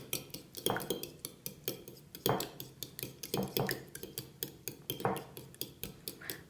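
A spoon stirs a homemade keratin-style hair mask with about two tablespoons of olive oil in a bowl, giving a steady run of close, bright clinks and scrapes against the bowl's sides, repeated rhythmically with no talking.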